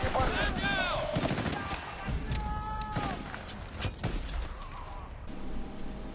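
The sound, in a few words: submachine gun firing in video game Battlefield: Bad Company 2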